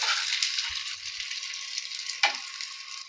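Bengali vegetable chops shallow frying in oil, a bright continuous crackling sizzle heard close up, with one sharp clink partway through and no voices.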